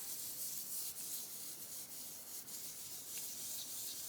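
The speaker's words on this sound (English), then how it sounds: "I'm going to use some Distress Oxide Fired Brick, and I want to just do this real lightly" Distress Oxide ink in Fired Brick being lightly rubbed through a stencil onto a paper background, a continuous soft scratchy swishing in quick repeated strokes, close and quiet, with no talk.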